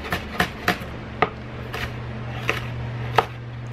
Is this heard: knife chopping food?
yes